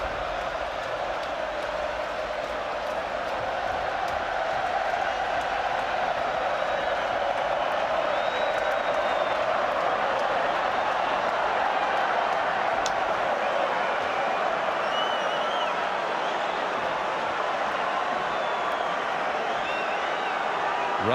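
A packed stadium crowd at a 2011 Rugby World Cup pool match between Australia and Ireland roars and applauds in a continuous dense wash, with commentary over it.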